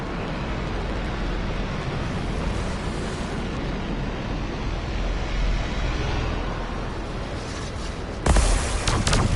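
Waterfalls flowing backwards in Anthem: a steady, dense roar of rushing water holds throughout, with a sharp, louder surge near the end.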